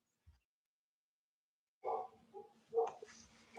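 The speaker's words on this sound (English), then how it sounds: "and now they're barking." Two big dogs inside an echoing house let out a few deep barks and yelps in quick succession after a brief pause. The barks sound moderately close and ring off the rooms.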